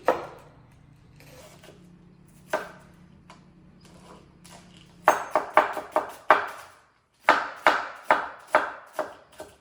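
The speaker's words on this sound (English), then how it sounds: "Now let's take the onion. I need only half. Again, same thing. Chop it finely." A knife finely chops half an onion on a board, its sharp chops landing in a quick, irregular rhythm that starts out sparse and then speeds into dense bursts, close and clear with no talking.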